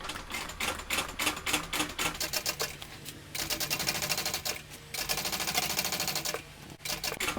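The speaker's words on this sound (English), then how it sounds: "I'm going to start right there and top stitch 1/8 of an inch" A sewing machine top stitching a tote bag runs in fast rhythmic bursts of needle clatter, stopping briefly between runs before starting up again, close and fairly loud.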